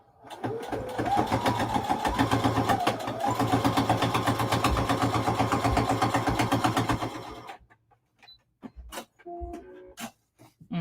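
A sewing machine stitches quilt blocks together in a steady mechanical whir lasting about seven seconds, then stops, leaving a few scattered clicks and light handling sounds.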